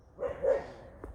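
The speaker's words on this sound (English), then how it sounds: "Tiny bit of barking, but not much." A pet dog named Amber gives a single short bark, then a faint yip, on a woodland walk, close and moderately loud against quiet surroundings.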